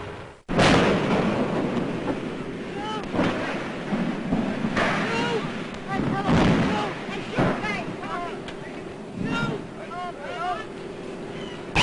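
The Hindenburg airship bursts into flames and crashes in 1937 newsreel footage: a sudden loud roaring blast followed by continuous rumbling, crackling fire and noisy turbulence, with a narrator's voice running over it.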